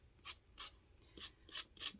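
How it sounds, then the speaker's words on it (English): Soft, rhythmic rasping strokes of sandpaper rubbing a painted surface, five quick passes in two seconds, close and quiet. "then come back and do this sanding too sometimes"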